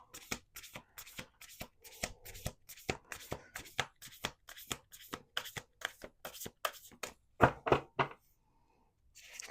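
A rapid run of card riffles and snaps, repeated rhythmically for several seconds, close and crisp, ending in a brief pause.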